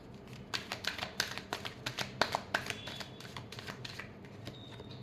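Tarot cards being shuffled at close range, a run of quick papery riffles and soft taps in a steady rhythm with no talking.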